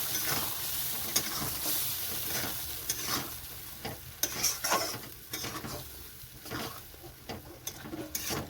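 Boiled banana flower and lentils stirred into hot spiced oil in a pan on a home stove, steady sizzling under repeated scraping strokes of a spoon, close and moderately loud, no talking.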